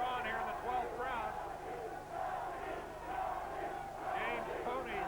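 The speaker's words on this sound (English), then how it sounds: "James Toney's section begins to chant his name" A boxing arena crowd in the twelfth round of James Toney vs. Reggie Johnson, an IBF middleweight title fight at the Hilton, chants a fighter's name in loud, rising waves, a dense roar of many voices.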